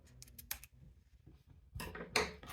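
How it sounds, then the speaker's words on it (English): Scissors snip through a fabric bag's zipper at a sewing table, a few sharp clicking cuts in two quick bursts with quiet pauses between them, close and fairly soft. "We can cut the zipper to make sure that it's the same."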